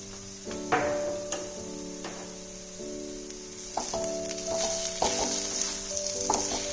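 Cabbage sizzles in a pan as home-made garam masala is stirred through it for a vegetarian Bengali dish, with a steady fry hiss broken by repeated scraping strokes of a spoon against the pan.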